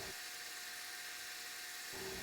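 A drill fitted with a foam mandrel and Velcro pad from a cheap headlight restoration kit whines steadily while polishing an exotic wood wizard's wand, a constant high buzzing hum that starts and stops.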